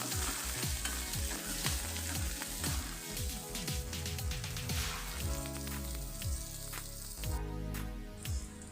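Onions frying in a pan for bottle gourd curry, a steady loud sizzle with crackling pops and stirring clatter throughout, no talking.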